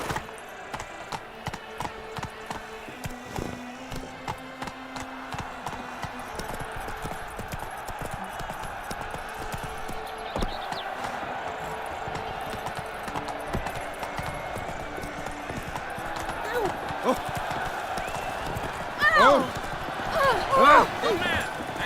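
Horse Roach galloping in the video game Witcher 3, a rapid, regular clip-clop of hooves throughout, fairly close, with game music and voices speaking over it.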